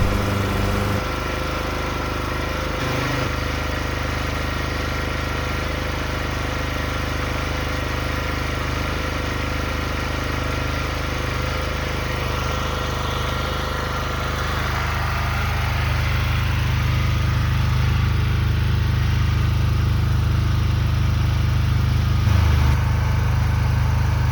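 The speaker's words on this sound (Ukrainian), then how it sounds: "Дамо трохи навантаження на генератор." A petrol generator runs steadily outdoors in winter cold around minus twenty, a continuous close engine drone that deepens and grows slightly louder about two-thirds through as an electrical load of roughly half a kilowatt is applied.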